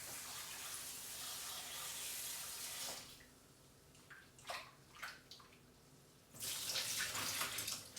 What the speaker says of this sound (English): So I actually rinse it through cold water.